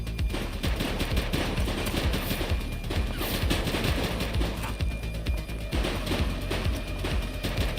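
Rapid bursts of automatic gunfire crackle continuously through a shootout, dense overlapping shots rattling at a steady loud level without pause.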